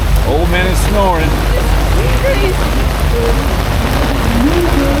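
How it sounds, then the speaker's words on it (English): Steady rain patters across a surface as a broad hiss at an outdoor classic car show, with voices talking over it throughout. "It's raining, man."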